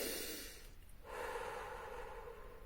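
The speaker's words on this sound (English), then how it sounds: "So you start breathing again in and filling that balloon" A single slow inhalation during a guided relaxation, soft airy breath drawn in after a brief gap, close and quiet with no talking.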